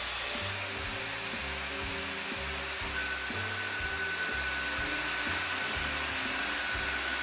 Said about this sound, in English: here is another tile we will cut using a portable bandsaw